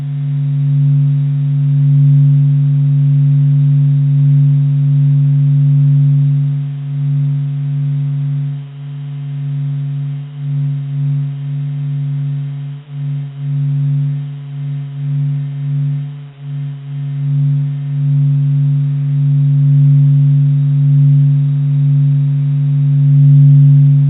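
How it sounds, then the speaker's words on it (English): Sonified sound of the sun, shifted into the audible range: a deep, steady thrumming drone of layered low tones that pulses and wavers in loudness throughout, alone with no other sounds. "A deep, thrumming pulse, steady as if the star itself were alive."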